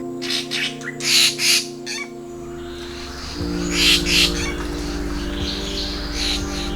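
Crows caw in loud bursts at a morning feeding spot in Cat Tien National Park, Vietnam, a few harsh calls in quick succession, over a steady low hum.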